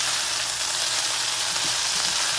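Food browning in a frying pan for a big Southern Sunday supper, a steady close sizzle of frying with soft stirring scrapes running throughout, no talking.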